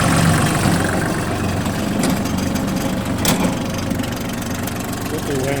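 A Kubota GT21 tractor's three-cylinder 21-horsepower diesel idles close by, a steady, even low rumble that holds without faltering throughout.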